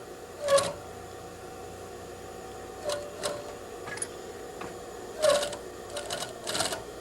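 Bursts of a sewing machine stitching tape along the edge of a skirt waist, short rapid whirring runs separated by pauses, close and moderately loud.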